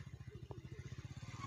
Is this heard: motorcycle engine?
yes